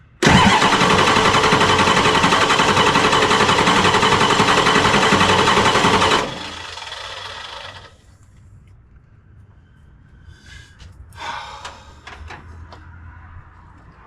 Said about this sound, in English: Let's see what happens during cranking.